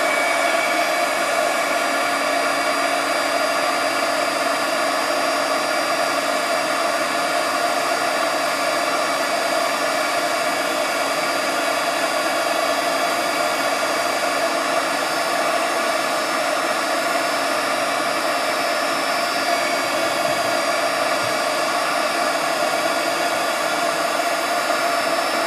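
An embossing-style heat tool blows steadily across a layered die-cut pumpkin craft piece for an album, a loud continuous broadband whoosh with a faint whine running unbroken the whole time, no voices.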